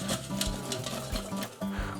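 Pasta chips rattle and scrape inside a shaken air fryer basket, a busy run of close, repeated clattering knocks with a faint sizzle underneath.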